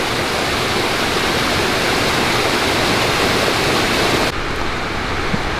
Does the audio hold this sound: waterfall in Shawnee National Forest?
yes